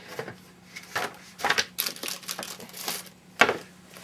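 A handmade paper flip card is opened and flipped, giving close crinkly rustles and a few sharp snaps of paper and card, with short pauses between them.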